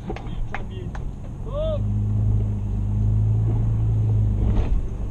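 A 4x4 vehicle engine rumbles steadily as it crawls over rocks on an off-road trail, a low continuous drone that swells slightly, with brief clunks and scrapes near the start.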